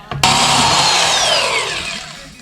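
A power drill bores into a Town Car gauge cluster, starting abruptly with a loud whirring bite that holds and then slowly winds down.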